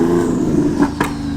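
A car engine hums steadily and loudly from inside the moving car, a low even drone with a couple of brief rises near the end.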